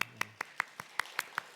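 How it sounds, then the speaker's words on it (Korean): Sparse, evenly spaced hand claps, about eight sharp claps in a steady rhythm, close and fairly quiet in an otherwise still room during a Wednesday prayer service. "박수."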